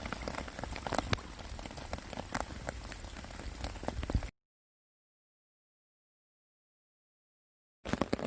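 Heavy rain patters densely and steadily on a camping tarp at a hammock campsite, a close hiss of drops that cuts out partway through and returns briefly at the end.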